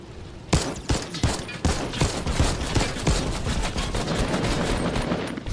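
Rapid gunfire in Fortnite: a loud burst of closely spaced shots, then a steady rattle of automatic fire that continues nearly to the end.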